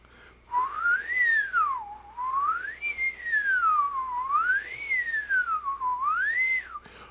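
A trumpet player whistles a smooth warm-up melody that glides repeatedly between low and high notes, clear and close, with no talking.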